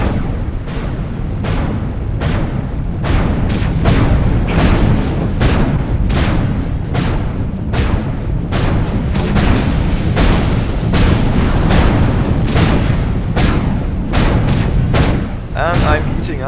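Rapid, loud autocannon fire and thudding explosions from the MechWarrior Online video game, with an Atlas mech in combat, pounding almost nonstop in dense bursts while someone talks throughout.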